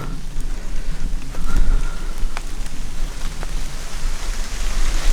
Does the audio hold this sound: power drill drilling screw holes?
no